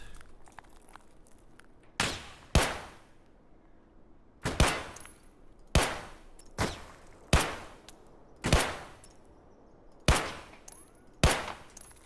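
Gunshots ring out in Escape From Tarkov as a player fires on scavs outdoors near a road. There are about ten sharp, loud single shots, some in quick pairs, spaced a second or two apart over faint ambient noise.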